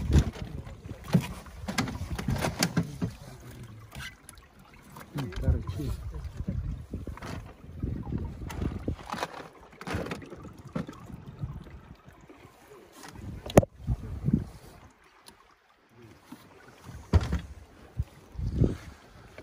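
A motorboat motor runs on a river in Karaleylek canyon, a fluctuating low drone with bursts and wind buffeting, while voices speak intermittently over it.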